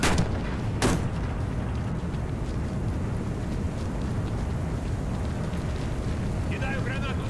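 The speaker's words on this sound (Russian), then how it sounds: "Осторожно, граната!" Two sharp blasts from a grenade in the online shooter Warface, the first right at the start and a second about a second later, followed by a steady low rumble of battle noise.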